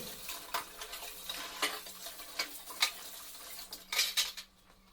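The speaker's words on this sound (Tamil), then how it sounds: "இப்போ பார்த்தீங்கன்னா எல்லா ஜாமானையும் கழுவிட்டேன்" Freshly washed kitchen utensils and dishes are handled and set down, making close, light clinks and clatters of metal at irregular intervals over a faint background hum, with a small cluster of knocks near the end.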